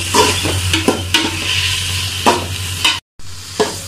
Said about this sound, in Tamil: இப்போ இதையும் நல்லா நம்ம வதக்கணும். அதோட கூட நம்ம பச்சை மிளகாவும் ஆட் பண்ணிக்கலாம்.